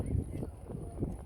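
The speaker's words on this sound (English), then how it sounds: "See the way the horse walk by." A ridden Clydesdale heavy horse walks past in a street parade, with faint, soft hoof clops under low background rumble and crowd noise.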